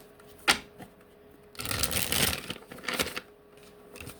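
A deck of oracle cards being shuffled by hand, with a sharp snap near the start and then a longer riffling burst followed by a few shorter flicks, close and fairly quiet.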